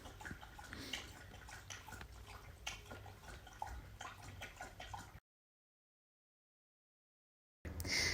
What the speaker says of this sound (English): You can probably hear my dog drinking water.